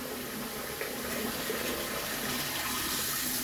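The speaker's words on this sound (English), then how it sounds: "Let it drain, a little bit of faucet run." Water runs steadily from a faucet, likely draining into a sink, making a continuous close gushing hiss with no pauses or voices.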